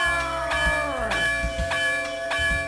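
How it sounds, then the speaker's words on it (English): Church bells ring in the Sega CD game The Amazing Spider-Man vs. The Kingpin, with repeated strikes about every half second over a low, steady background drone, loud and close throughout. "church bells ringing"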